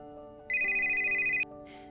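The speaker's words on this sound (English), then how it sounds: "the phone rings" A telephone in an apartment gives a single short electronic ring lasting about a second over a quiet background hum.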